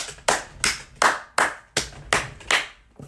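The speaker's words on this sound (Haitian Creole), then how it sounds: "Bat bravo pour la jeunesse." Slow, deliberate hand claps applaud the youth, about eight sharp, close claps in an even rhythm with no talking.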